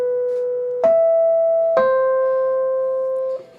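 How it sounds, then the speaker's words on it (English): A single-line melody is played on a pitched instrument, three sustained notes separated by soft attacks, steady and clear with no talking. "So let me play through the melody,"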